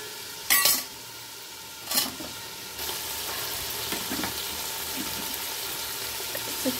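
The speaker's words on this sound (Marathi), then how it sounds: "आता लगेचच आपण यामध्ये चिकन टाकून देणार आहोत." Raw chicken goes into hot oil in a cooking pot for chicken biryani: two sharp clattering splashes as pieces drop in, then a steady, moderately loud sizzle that continues with small crackles to the end.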